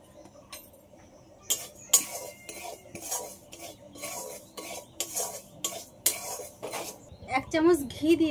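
Dry semolina stirred in an empty wok over a lit stove, a metal spoon scraping and clinking against the pan in repeated bursts, close and fairly loud, with brief voice sounds near the end.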